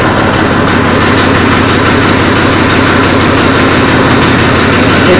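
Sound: Eicher 333 tractor diesel engine idling

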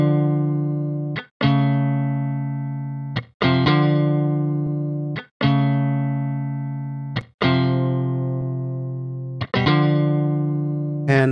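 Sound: dry electric guitar with analog delay bypassed

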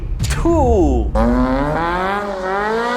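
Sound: Lotus Elise Series 2 sports car engine

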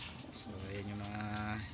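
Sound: pet pigeons cooing

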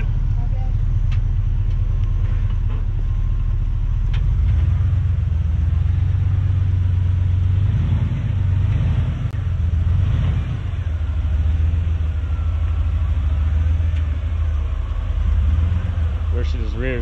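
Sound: Red Dot Engineering off-road buggy driving over sand obstacles

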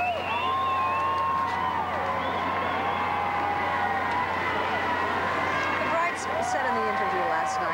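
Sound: crowd cheering at royal wedding outside Westminster Abbey

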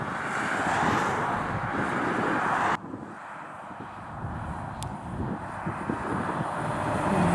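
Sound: lorry passing on a windy road

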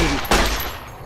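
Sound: 9mm pistol gunfire in video game Fallout New Vegas

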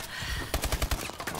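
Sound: gunfire from a video game shootout

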